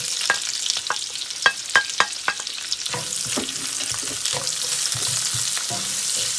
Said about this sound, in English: So I'm just gonna let this saute for about 2 to 3 minutes, but I'm gonna stir it up